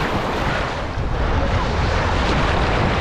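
Baltic Sea waves and wind on the beach at Stegna, a loud steady roar of surf with heavy wind buffeting the microphone, continuous and close.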